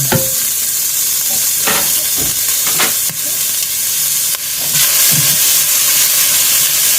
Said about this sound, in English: So we're going to start with that on medium heat. Just going to saute that down.